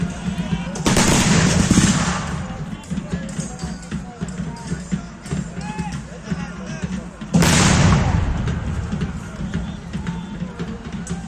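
Artillery and musket fire at a Battle of Bratislava reenactment, with two heavy booming volleys that roll on for about a second each. Scattered crackling shots and crowd noise fill the gaps, and a voice talks over the scene.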